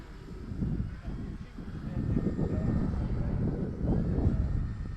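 A small propeller engine on an E-flite Cherokee radio-controlled model airplane drones steadily at a distance, rising and falling as it passes, with wind buffeting the microphone throughout.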